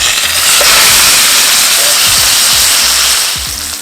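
Steak and garlic cloves sizzle loudly in a very hot skillet, a dense steady hiss and crackle with a few low pops, holding strong before easing slightly at the end, with no voices.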